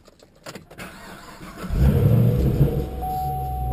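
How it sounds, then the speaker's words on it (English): Engine of a 2012 Camaro ZL1 cranking and firing up: a few clicks and a short whir, then the engine catches with a loud burst and settles into a steady, rumbling idle. "Let's go ahead and start the car."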